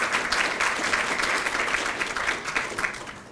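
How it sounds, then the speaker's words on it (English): Sustained applause from a crowd at a fair housing luncheon, steady dense clapping that holds at an even level throughout without talk. "Please give a hand and applause to Linda Warner, Amy Hill, and Christine Pig"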